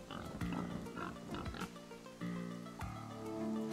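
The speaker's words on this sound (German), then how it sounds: "Ich will euch gar nichts tun, liebe Schweinchen." Pigs in the Chef RPG video game oinking and grunting in a cave, several short repeated grunts in close succession, fairly quiet overall and without talk.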